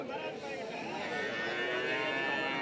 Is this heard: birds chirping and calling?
no